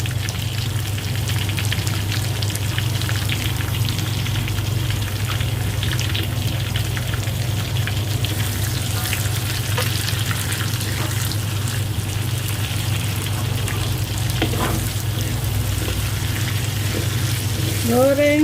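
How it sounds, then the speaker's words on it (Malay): Chicken and four onions fry together in a pan for a karahi, giving a steady, close sizzle that carries on without a break, with a few light stirring clinks toward the end. "Goreng sampai brown"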